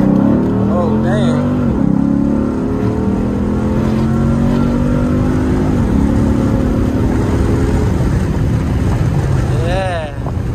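A 2007 Dodge Charger SRT8 with a 6.1L engine, long-tube headers and a Diablo tune accelerating hard, its loud engine note climbing in pitch through gear changes, heard from inside the car.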